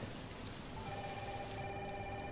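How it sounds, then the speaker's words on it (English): Steady, dense hiss of heavy rain pouring down, close and loud throughout, with a faint ringing tone rising near the end. "It's really coming down hard."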